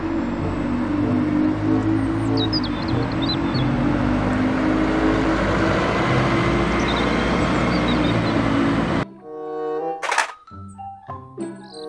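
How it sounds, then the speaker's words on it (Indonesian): A toy city bus gives off a steady, loud electronic engine rumble for several seconds, which cuts off into a short sequence of synthesized beeps and tones. "Mobil bus kota."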